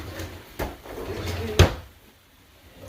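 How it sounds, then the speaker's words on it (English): A few short wooden knocks and thuds of kitchen drawers sliding open, spaced apart, with a sharper clunk near the end and quiet voices in the background. "let's open up these drawers over here, Keisha."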